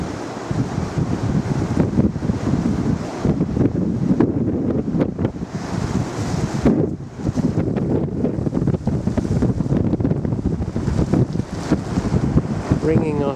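Wind on a cold, wet 10-mile mountain walk buffets the microphone in heavy, uneven gusts, a loud rumbling roar that barely lets up.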